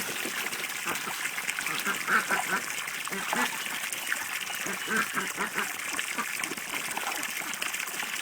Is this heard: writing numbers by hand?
no